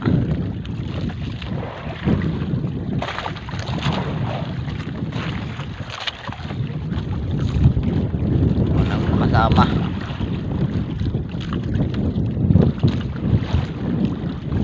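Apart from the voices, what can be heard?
small boat floating on water in wind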